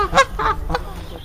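Geese or ducks honk in a short run of four or five nasal calls, fairly close and loud, with faint background ambience between them.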